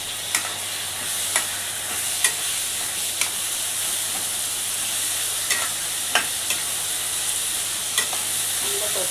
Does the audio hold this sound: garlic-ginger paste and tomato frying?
yes